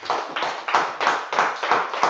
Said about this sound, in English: All right, clap it up.